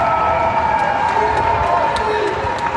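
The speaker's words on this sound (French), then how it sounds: "Des applaudissements pour le personnel soignant qui est en première ligne face à cette épidémie de coronavirus" A crowd in France claps and cheers for healthcare workers during the coronavirus epidemic, a dense, continuous wash of applause at a steady level with faint whoops on top.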